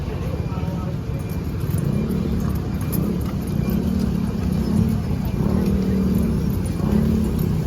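Road traffic on a Philippine street near 4 PM on a rainy afternoon, a constant low rumble of cars and motorbikes passing close by, with people talking over it.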